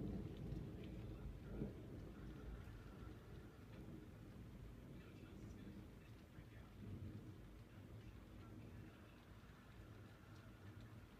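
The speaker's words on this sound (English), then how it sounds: "I hear it's raining a little bit." Steady rain patters down with low rumbling thunder rolling in the distance throughout, no voices.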